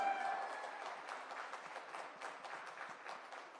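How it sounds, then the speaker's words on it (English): Audience at a tech awards ceremony in India applauding, a soft, distant, steady patter of claps across a large room. "So a huge round of applause for all of you."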